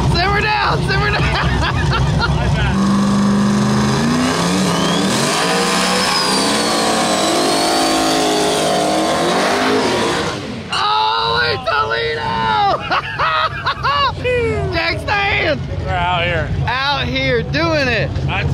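Drag race cars launching heads up down the strip at a drag week event: a loud roar of engines building and revving, then a crowd babble and excited voices over the fading noise.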